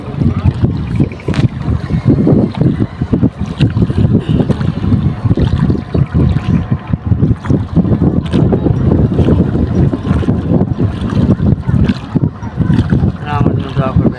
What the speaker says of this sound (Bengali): খুব বাতাস